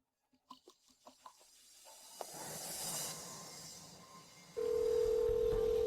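A telephone dial tone sounds as a steady hum that starts partway through and holds to the end, following a few short taps and some hiss, with no talking.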